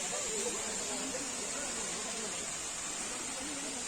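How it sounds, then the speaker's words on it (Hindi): Flowing water in a village forest gives a steady, soft broadband rush, faint and constant like a distant stream, with no distinct splashes. "बहता हुआ पानी"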